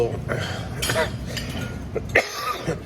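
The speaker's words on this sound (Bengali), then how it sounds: "একটু ঠান্ডা গরমে কাশি শুরু হয়ে গেছে" Someone coughs a few times during breakfast, short sharp bursts close by among faint clinks of cutlery and dishes, with quiet talking around.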